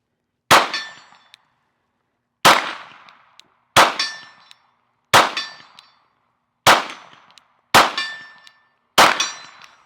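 Seven sharp metallic clangs ring out as bullets from a Glock 17 Gen 6 strike a steel target at 45 yards, each ding decaying quickly, spaced roughly a second or two apart, with no talk.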